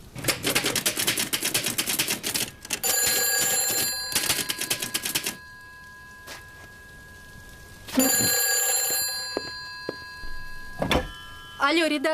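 Typewriters clatter in a newspaper office as an old telephone bell rings in long loud bursts, pausing and ringing again before stopping, with a voice speaking near the end.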